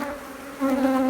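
Honeybees buzz at an opened hive frame in an apiary, a close, clear drone with a steady pitch that swells louder partway through, with no speech.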